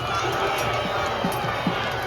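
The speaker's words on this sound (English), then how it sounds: "Your cheers are working." Spectators at a Battle of Hastings reenactment cheer in a continuous loud crowd roar, with sustained shouting and a few sharper whoops rising briefly from the broad wall of voices.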